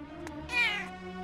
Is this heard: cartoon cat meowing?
yes